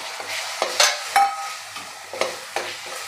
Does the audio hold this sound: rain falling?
no